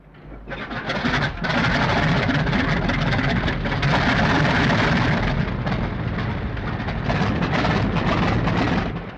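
Zeppelin engines run with a heavy, continuous roar that swells in after a short start and holds loud and steady throughout.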